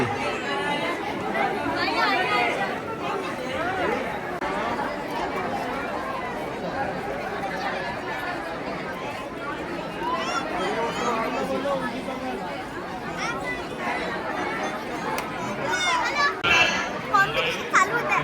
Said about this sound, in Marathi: गर्दी बघा गर्दी गर्दी गर्दी